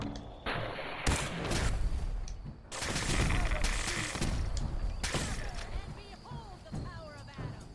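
Gamma rifle fire in Fallout 4, several loud close bursts of gunfire-like shots in uneven clusters amid game combat noise, with a person talking over parts of it.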